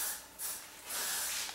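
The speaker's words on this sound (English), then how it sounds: "I'm just going to spray a little bit through there" A short, soft hiss of hairspray misted through hair at the roots while styling a fohawk, in two or three quiet bursts with brief pauses, close to the microphone.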